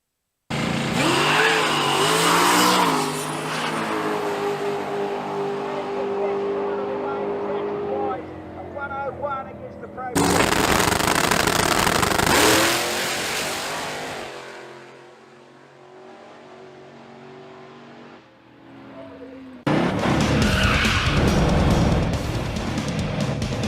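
Race cars lapping the Morgan Park circuit near Warwick, Australia, their loud engines roaring and revving in long surging passes that swell, fade and return in repeated waves.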